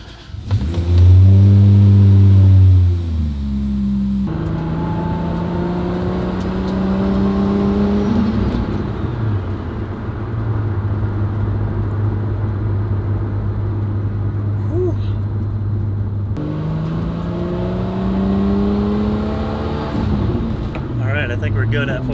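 A fully built 2JZ engine in a Toyota MKIV Supra revs up toward 4,000 RPM, with loud, close rising and falling engine tones and held steady revs, and a person talking over parts of it.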